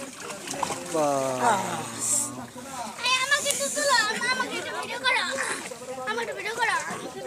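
People swim and splash in water during a 2017 boat outing at Basulia, Bashail, Tangail. Splashing and trickling sit under loud, excited children's and adults' voices that call and shout almost continuously.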